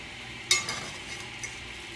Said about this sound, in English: Now what we're doing is sauteing.